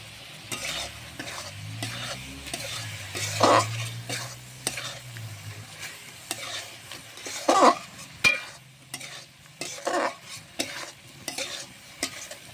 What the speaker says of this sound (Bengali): এবার দিয়ে দেবো ধুয়ে রাখা মাছগুলো